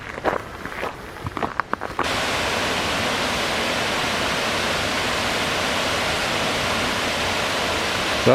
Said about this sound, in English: So that's the waterfalls.